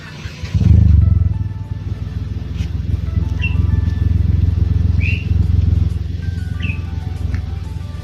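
A Datsun Go with a modified exhaust idles steadily nearby, a deep, even rumble after a brief louder blip at the start, with faint bird chirps above it.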